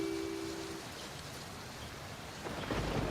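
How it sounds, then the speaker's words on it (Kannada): Steady rain hisses as a dense, even wash of noise, swelling louder near the end, with no voices. "ಆಚೆ ಇಷ್ಟೊಂದು ಜೋರಾಗಿ ಮಳೆ ಬರ್ತಾ ಇದೆ"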